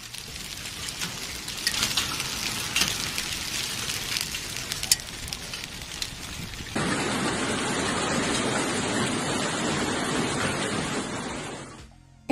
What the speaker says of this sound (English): hail fell on the 1st of January, and as a result, the resort was covered with snow.